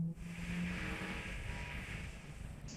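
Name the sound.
400 hp car engine accelerating in fourth gear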